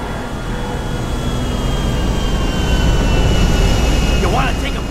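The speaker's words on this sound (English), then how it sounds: "You want to take a plane full of tourists with you?" A plane full of tourists rumbles on a runway in GTA V, a video game, a loud, sustained jet engine roar that swells slightly over several seconds, with game sounds mixed in.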